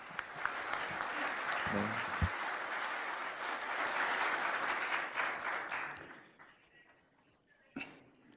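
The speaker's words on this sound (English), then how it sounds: "Let us welcome Reverend Bakary Kamara with a warm round of applause" An audience at a celebratory banquet breaks into a warm round of applause to welcome a reverend to the stage, the dense clapping steady for about six seconds before fading out, with a stray cough and a sharp thump near the end.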